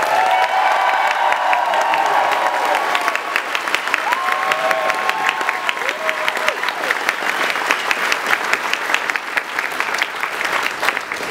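A large audience at the PAX 2012 gaming convention claps loudly and steadily, with some cheers and whoops rising over the applause at first before it settles into dense clapping.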